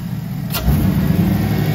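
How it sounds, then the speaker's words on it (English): A Chevrolet Silverado pickup engine running on top fuel nitro rumbles loudly up close through a filtered exhaust, idling deep and then swelling into a heavier, throatier growl. "I've never heard a stock Silverado sound that good."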